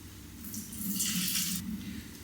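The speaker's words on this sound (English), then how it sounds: "we're just gonna drain the water off the" Hot water from a pot of cooked noodles pours and splashes into a sink as it drains, a steady rushing stream for about two seconds with no talking.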